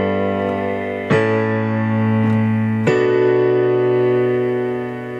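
Sustained piano chords for a song, struck alone with three clear re-attacks and held ringing between them, full and close.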